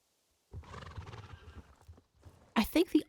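A horse in the Star Stable Online video game whinnies with a rising and falling neigh, then a short burst of louder hoof or snort sounds follows after a brief pause.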